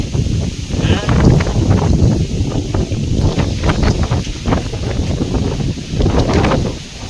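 Strong wind on a village farm buffeting the microphone in a loud, continuous roar with gusty swells, a voice talking underneath.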